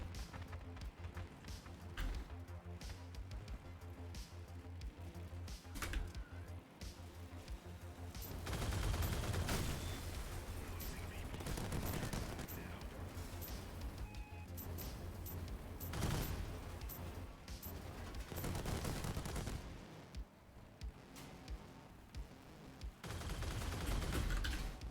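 Steady video game gunfire, with dense rapid shots and bursts running through the whole stretch, loud and continuous, swelling at times, with no talk over it.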